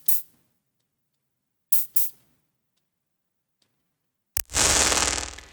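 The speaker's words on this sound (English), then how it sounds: "In white noise mode, this becomes a filter" An ADs-8 analog drum machine in white noise mode, sent through a resonant bandpass filter, gives a few short clicks and then a loud sustained hiss that slowly fades, with nothing else in between.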